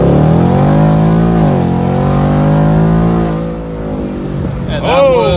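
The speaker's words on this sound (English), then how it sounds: "we can just kind of do a little quick takeoff just to hear the sound one more time" A 2019 Ford Mustang GT Premium convertible accelerates from a standstill on takeoff, its V8 engine revving loudly and close with rising pitch through the gears, the roar easing briefly before swelling again.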